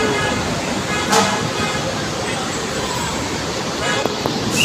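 A lone Hyundai bus on a roadway in Lipa drives past amid steady traffic rumble, with a brief horn toot and mixed road noise, fairly loud and close.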